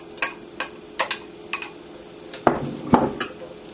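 Diced onions going into heated oil in a pan for cauliflower fried rice, heard as a string of close, sharp utensil clinks and pan knocks followed by two louder clattering hits with a brief sizzling wash.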